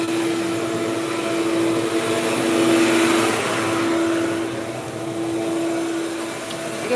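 A vacuum cleaner runs steadily during a Persian cat grooming session, a loud continuous droning whoosh with a steady humming tone that swells slightly and eases back, with no talking.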